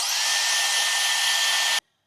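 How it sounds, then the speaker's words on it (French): A hair dryer blows on a hair fringe, a loud, steady whooshing hum with a faint whine that runs for nearly two seconds and then cuts off abruptly into silence. "je donne un petit coup de sèche-cheveux"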